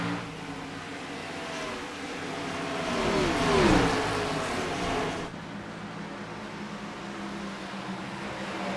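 Simulated race cars in the iRacing game at Charlotte, a Gen 4 stock car race, roar steadily as a pack, swelling louder as engines pass close around the middle, then settling back into a continuous drone.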